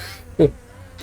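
Giant wasp drones in the EverQuest video game give a single short, loud insect-like buzz lasting under half a second, standing alone against a quiet background.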